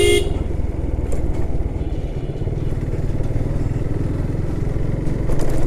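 A motorcycle cruising an empty Dhaka road on a quiet Friday, running low on fuel, gives a loud steady engine drone and wind rush from the rider's position, with a horn toot at the start.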